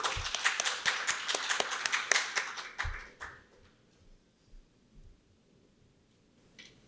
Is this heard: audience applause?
yes